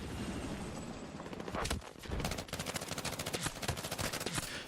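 Rapid SMG gunfire in a Battlefield 6 trailer, with dense, fast-repeating bursts that build into a steady, punchy rattle of shots over a noisy battlefield background.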